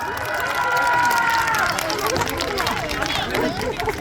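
A large outdoor crowd at an autumn festival claps and cheers for a singer, a loud, continuous roar of applause mixed with shouts and excited chatter throughout.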